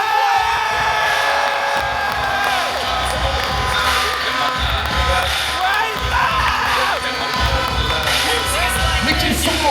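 An arena crowd at a Brazilian jiu-jitsu gala cheers and applauds for the referee, a dense, loud roar with whoops and shouts over an announcer's amplified voice.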